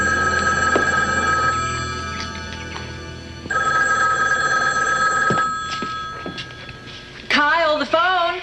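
An old telephone bell rings in repeated bursts in an indoor scene from an 1980s romance drama, loud and close, and a voice breaks in near the end.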